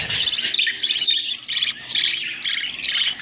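An African lovebird chick squawks in rapid, repeated bursts: shrill, insistent calls close by and fairly loud, with only tiny gaps between them.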